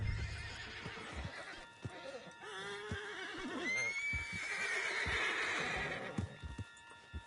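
A horse in the video game Red Dead Redemption 2 gives a long, loud whinny in the middle, with hoof clip-clops and a bit of faint background noise around it.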